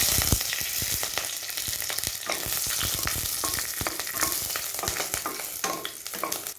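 Green chillies and whole spices (star anise, cinnamon, cloves, cardamom) fry in melted ghee for mushroom pulao, a close, steady, loud sizzle broken by scattered crackles and pops, with no talking.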